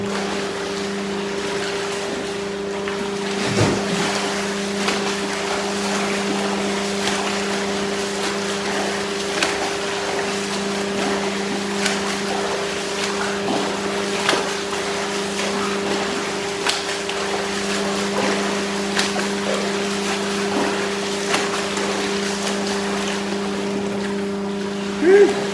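An Endless Pool swim current machine runs with a steady, even motorized hum and churning water, continuous and unchanging throughout with occasional small splashes.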